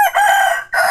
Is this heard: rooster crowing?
yes